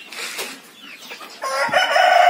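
Arab laying hens cluck and squawk close by in a coop, a busy burst of calls rising louder toward the end.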